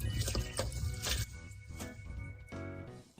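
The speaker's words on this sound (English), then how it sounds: "Peel off the thin skin, rinse with water, and drain in a colander." Rinsed pickled shallots draining in a colander, with close, wet pouring and splashing of water in uneven bursts, trickling and dripping between them, and no voices.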